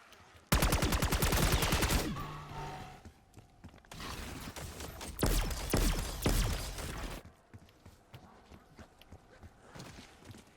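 Ray gun firing in the Black Ops 6 zombies video game: loud repeated bursts of rapid shots and blasts in two main volleys, with game effects and fainter shots trailing off afterward.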